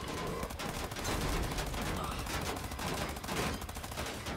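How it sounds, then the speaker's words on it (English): Gunfire in the video game Wolfenstein, heard as dense, rapid automatic shooting that runs steadily through the whole clip, with the shots blurring into a continuous rattle. "I am shooting him in the face."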